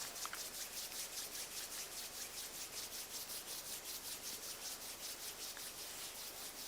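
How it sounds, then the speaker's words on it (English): Palms of the hands rubbed gently against each other during a guided practice, a close, soft swishing friction repeating in a steady back-and-forth rhythm, about two strokes a second, with no voices. "And rub the palms of your hands gently against each other."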